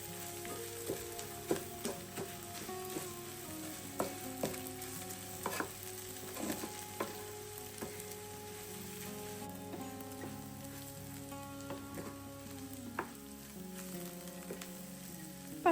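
Soup pasta frying and being stirred in a pan gives a steady close sizzle with scattered scraping clicks from the spoon throughout, no talking over it.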